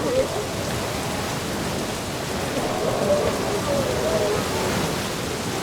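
Steady rain falls in The Dark Eye: Chains of Satinav, a loud even hiss that holds unbroken throughout, with faint low murmuring beneath.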